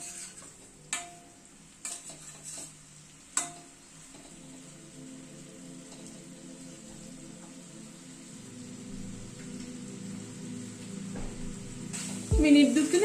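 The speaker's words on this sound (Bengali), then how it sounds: "মিনিট 2-3 মতো গ্যাসের ফ্লেমটাকে কমিয়ে রেখে কষিয়ে নিলাম" Spice masala for a potato and onion bhuna is sautéed and stirred in a pan over a lowered gas flame. A few sharp utensil clicks come first, then a quiet, steady sizzle builds gradually, with scraping stirs and a louder rattle at the end.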